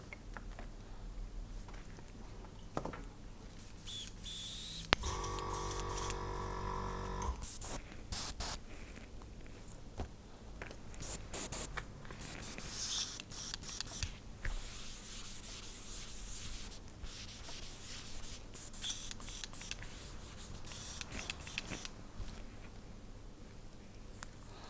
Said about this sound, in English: So a little bit of water, a little test spray.